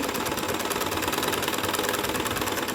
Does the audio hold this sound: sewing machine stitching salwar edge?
yes